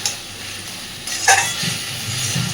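Eel fish sautéing with potatoes and spices in a pan makes a soft sizzle, then a brief scrape of stirring and low rumbling frying that grows slightly louder.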